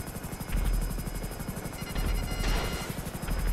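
FH-1 Hunter attack helicopter in GTA V Online, a steady rotor and engine drone with low thumping pulses, taking hits, with brief bursts and impacts rising over the continuous roar.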